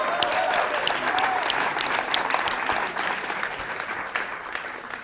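A live audience at a design talk breaks into steady, dense applause that holds loud for about five seconds, fading slightly toward the end, with no voices over it.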